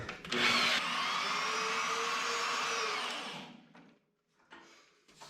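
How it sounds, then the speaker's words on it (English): Power drill driving a toe screw into a wall stud while framing a floating basement wall, a loud close whine of about three seconds, then a short pause and a brief second burst. "basically I'm going to toe screw it in here, like so."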